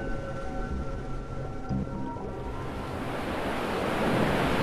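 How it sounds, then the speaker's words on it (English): Choppy ocean waves in the Floating Sandbox ship-destruction game: a steady rushing surf wash that swells louder toward the end, with a faint tonal hum beneath and no talk. "We can make very choppy waves."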